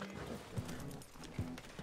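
Horse hooves in a western role-play video game, a few soft clip-clop thuds spaced irregularly, fairly faint against a low background hum.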